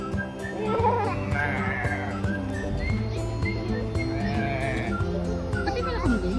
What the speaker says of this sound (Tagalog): Pati pala kambing?